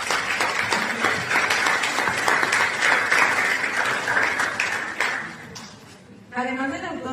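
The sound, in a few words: applause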